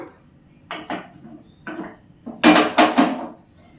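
A metal cooking pot is set down on a gas stove while making egg gongura curry: a few light metallic clinks and taps, then two louder clanks as it lands, close by with no talk.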